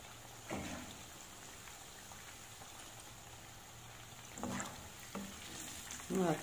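Zucchini (squash) frying gently in a pan over low heat, a quiet steady sizzle with a few louder scraping stirs near the start, middle and end.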